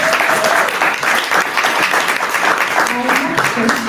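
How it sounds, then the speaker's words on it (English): Steady, loud applause from an audience at a talk show event, continuous clapping filling the whole stretch with some voices mixed in beneath it. "let's give them a big round of applause"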